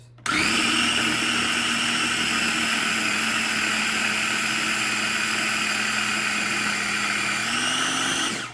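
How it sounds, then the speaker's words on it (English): A small KitchenAid food processor whirs loud and steady as it purees ripe bananas, a continuous high-pitched motor drone that runs for several seconds, shifts pitch slightly near the end, then cuts off. "just a little KitchenAid food processor"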